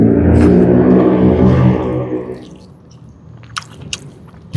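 Crisp bites and wet chewing of crunchy, watery talbos shoots, loud and close for the first couple of seconds, then fading into quieter ambience with a few sharp clicks.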